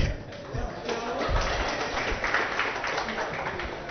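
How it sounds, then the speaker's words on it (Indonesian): A seminar audience at a tax planning event claps for a guest, a dense, steady patter of many hands filling the room, with a voice speaking over it. "Tepuk tangan buat Pak Muhadi"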